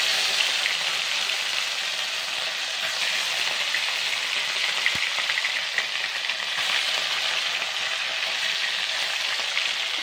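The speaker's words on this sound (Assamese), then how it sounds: "এতিয়া ইয়াত ৰৌ মাছকেইটা দি দিছোঁ" Rohu fish frying steadily in a pan of hot oil for a wild greens curry, a dense, continuous close sizzle with crackling spits and no voices.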